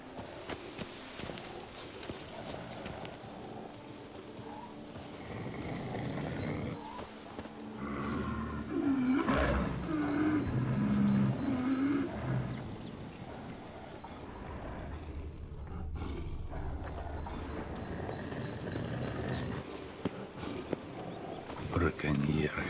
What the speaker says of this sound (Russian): Слышите? Это пантеры.